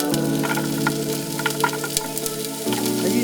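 Celery, carrots, onions and garlic sizzle and crackle as they sauté in a soup pot, a steady frying hiss with small pops and stirring clicks, close and alone with an underlying hum.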